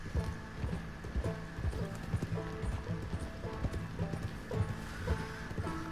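Horse hooves clip-clopping at a steady walking rhythm in the open-world western game Red Dead Redemption 2, close and distinct, with a brief whinny and a faint rumbling in-game ambience beneath.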